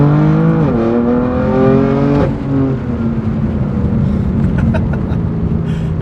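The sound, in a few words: BMW M4 GTS S55 engine exhaust rasp at high RPM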